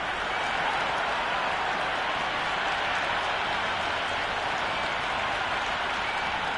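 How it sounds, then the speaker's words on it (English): A large stadium crowd at an India vs England one-day cricket match in the video game Cricket 26 roars in a steady, dense wash of noise that never lets up, cheering and clapping from all around. "The crowd are making a heck of a lot of noise even before the first ball's been bowled"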